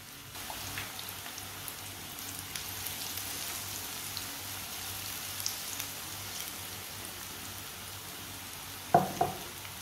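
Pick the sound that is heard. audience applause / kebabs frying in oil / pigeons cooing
kebabs frying in oil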